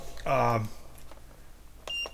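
A short voiced tone is followed, after a pause, by a brief high-pitched electronic beep from a battery box.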